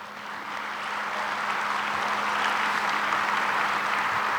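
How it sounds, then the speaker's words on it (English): Sustained audience applause at a business luncheon event, a steady dense wash of many hands clapping that swells slightly and holds evenly throughout, with no voices on top. "Let's give her a round of applause."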